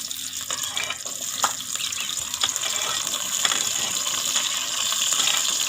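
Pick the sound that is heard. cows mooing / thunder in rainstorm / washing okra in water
washing okra in water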